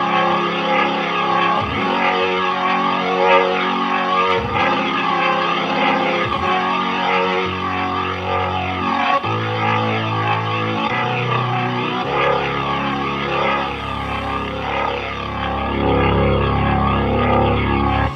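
A Nord Stage 3 keyboard with its overdrive effect doubled plays thick, heavily distorted sustained chords that shift every couple of seconds, loud and continuous with no talking.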